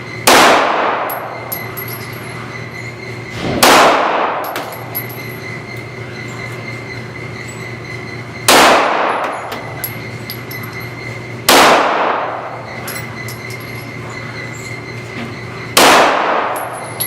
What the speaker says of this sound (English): We're going to fire a few rounds off.